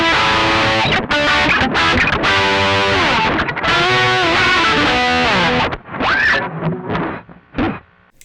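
A loud electric guitar runs through an Ibanez TS9 Tube Screamer used as a booster, with long sustained overdriven chords and lines that give way to a few thinner, quieter notes near the end.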